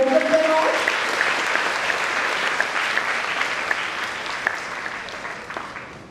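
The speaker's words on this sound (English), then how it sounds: "Could we have a round of applause to welcome them all?" An audience at an inter-school literary meet applauds to welcome guest writers, a dense burst of clapping that slowly tapers, with a brief voice at the very start.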